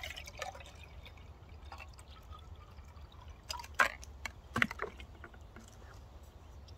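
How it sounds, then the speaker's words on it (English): Water poured from a measuring jug into a mug, 300 millilitres for a one-pot apricot and walnut crumble, with trickling and splashing that peak in a few brief louder pours against quiet kitchen background. "to that I'm gonna add 300 milliliters of water"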